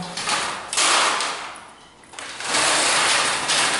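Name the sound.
blackout roller blind sliding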